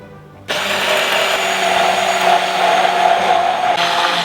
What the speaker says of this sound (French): Machine miracle arrive, on mixe, l'huile végétale et on monte et on fait une trempette.